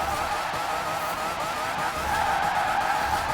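Mazda RX3 drifting in Forza Horizon 4, with steady tire skid and engine roar held at an even, loud level throughout, no talk.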